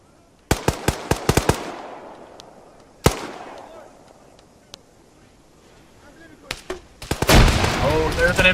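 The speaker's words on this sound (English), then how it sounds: "there's an M203 going off" An M203 grenade launcher and small-arms fire in the military shooter ARMA 3: a quick string of sharp shots, a lone loud report, scattered pops, then a heavy blast with a rumbling tail, and someone talking over the action.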